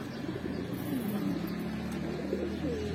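Black-necked pigeons coo softly at a pigeon market, low murmuring calls that repeat steadily against faint background noise.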